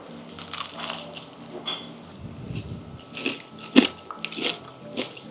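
Crisp bites and crunching chews into deep-fried prawn rolls (hei zhou), a series of sharp close crackles spaced irregularly over a few seconds with no talking.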